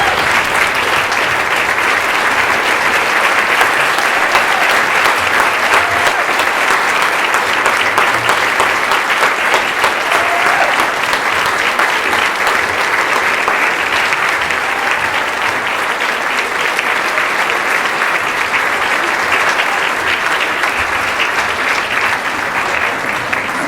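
Sustained audience applause at a school district retirement celebration, a dense steady clapping from a large crowd that carries on evenly for over twenty seconds without a break.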